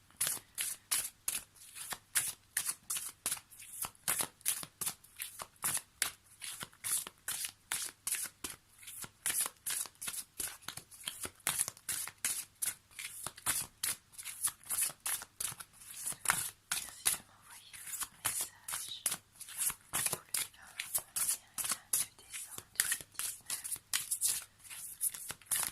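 Oracle cards shuffled for a card draw, a continuous rapid riffling and flicking of cards held close, with soft whispery texture, steady throughout and with no talking over it.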